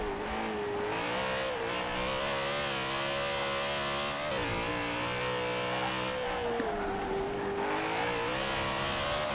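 BMW Z4 drift build in Forza Horizon 4, engine howling loudly and continuously as it corners, pitch dipping and rising with throttle, a faint tire squeal now and then, no talk.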